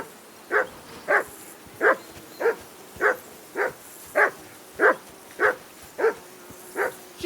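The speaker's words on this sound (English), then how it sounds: "Jesus, Henry, that barking's driving me nuts" A dog barks steadily in Kingdom Come: Deliverance 2, about a dozen evenly spaced, fairly close barks over a soft outdoor ambience by a riverbank camp, with no one talking.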